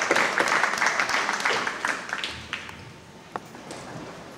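A crowd applauds the young winners at a county steer show, with brisk clapping that is strong at first and thins to a few scattered claps as it fades.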